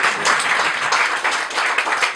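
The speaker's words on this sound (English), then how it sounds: "Give him a round of applause." An audience at a debate gives a speaker a brief, steady round of applause, dense clapping without voices.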